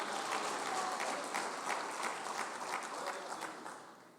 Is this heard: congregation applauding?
yes